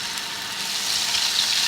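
Chopped ginger and garlic fry in hot oil in a pan for saag kofta. A steady, close hissing sizzle grows slightly louder, with no voices.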